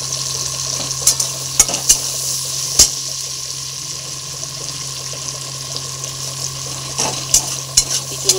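Chopped garlic fries in hot oil in a pan, a steady close sizzle with occasional sharp scrapes and clicks of a spoon stirring it, no talking over the sound.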